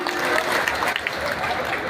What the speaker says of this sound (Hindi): एक बार दोनों हाथ ऊपर उठा के ताली बजा के स्वागत कीजिए राजनाथ जी का